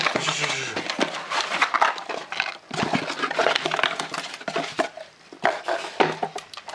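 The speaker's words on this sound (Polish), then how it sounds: "Pierwsza to jest przesyłka polecona, jako list. I otwieram szybko." A registered letter parcel is torn open quickly up close, a busy run of crinkling paper, rustles and sharp tearing bursts over several seconds with no talking.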